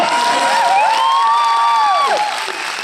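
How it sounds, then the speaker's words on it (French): An audience at a French film premiere cheers and applauds, a loud, continuous wash of clapping and whoops with rising shouts throughout. "Et les gens applaudissent."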